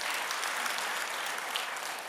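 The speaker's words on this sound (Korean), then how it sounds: "우리 교구장님께 박수 한번 다시 한번 올려드리겠습니다" A church congregation at a Sunday worship service applauds the parish leader after a sermon, a full hall clapping steadily at moderate loudness without voices over it.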